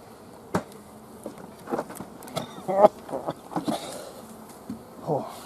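Honeybees buzzing around an open hive during a winter inspection, a faint buzz mixed with scattered knocks and handling noises close by, with a few short bursts of sound.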